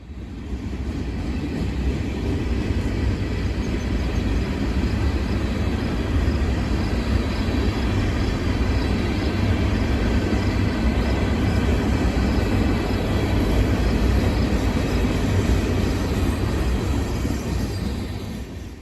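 Two BNSF locomotives hauling a local freight train on the Creston Subdivision produce a loud, steady, continuous rumble and roar that holds for the whole stretch without a break.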